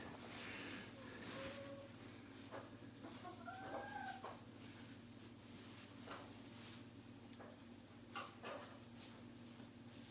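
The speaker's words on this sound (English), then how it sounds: "Chickens and a dog." Chickens clucking softly in an enclosure during snowy weather, scattered calls and a distant crow over a constant low hum, fairly faint.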